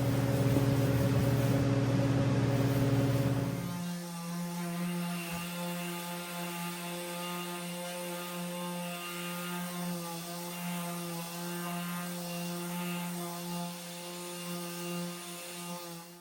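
An electric sander with a pad fitted buffs wax into the wood grain of an elegant china cabinet during a simple refinish, a steady droning whir that drops to a lower, even hum after a few seconds and holds there without talk.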